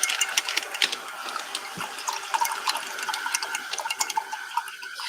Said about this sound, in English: Rinse the brush, blow dry it while we're doing it